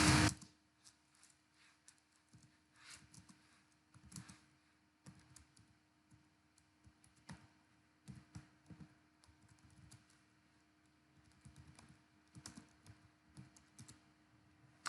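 Typing on a computer keyboard while writing Python code, soft irregular clusters of close key clicks with short pauses between bursts, quiet and alone.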